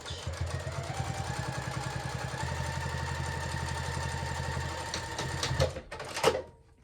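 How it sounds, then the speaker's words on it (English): A sewing machine runs steadily while top stitching the top card slot of a fabric card-slot wallet clutch, a continuous fast mechanical whir that slows and stops near the end. "on the very top card slot, go ahead and top stitch"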